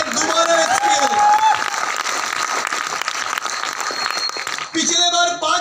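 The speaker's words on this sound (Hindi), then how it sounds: "तालियां तो दे दीजिए, दोबारा एसपीएल" Audience applause at a sales training session in Guwahati, a dense, steady wash of clapping with some crowd noise and cheering running loud throughout, dipping briefly near the end before swelling again.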